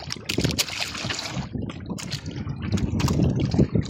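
Heavy waves rock a small fishing boat at sea, with irregular water sloshes and splashes against the hull alongside wind, sounding close and uneven in loudness.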